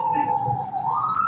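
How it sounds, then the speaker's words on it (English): Emergency sirens going past outdoors, a steady wailing tone that drifts slowly upward in pitch, fairly loud and close throughout, with a low rumble underneath. "as the sirens go past"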